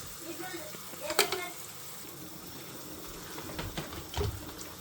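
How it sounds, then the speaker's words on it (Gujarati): Masala fries in a pan for prawn biryani, giving a close, soft sizzle with a few sharp clinks and scraping stirs, and a faint watery rush near the end. "અમે છે ને ફ્રાય આમ કરીએ."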